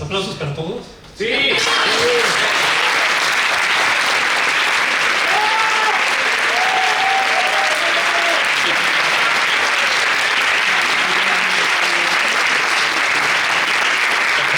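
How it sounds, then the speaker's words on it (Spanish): A short spoken moment, then loud, dense applause from a theatre talk audience erupts and holds steady, with a few cheering voices rising above the clapping. "¿Aplausos para todos?"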